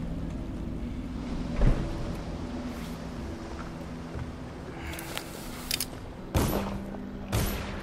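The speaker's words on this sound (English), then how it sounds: "Why am I hearing gunshots?" Gunfire in the stealth video game Dishonored: a few sharp, distant shots at irregular intervals over a low, steady mechanical hum, with no talking.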